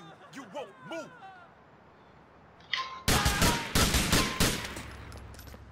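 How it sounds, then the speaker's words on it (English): Gunfire in the LCPDFR police mod of a video game: a sudden loud burst of rapid shots and blasts breaks in after a stretch of radio-style voices, then continues in heavy repeated volleys with rumbling echoes. "Shots fired, shots fired."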